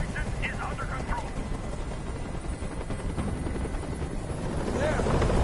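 Helicopter rotor roar in the Detroit: Become Human hostage scene, a steady low rumble that swells louder toward the end, with faint voices underneath.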